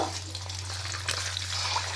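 Onion slices fry lightly in hot oil for birista, giving a steady close sizzle and crackle with no voices.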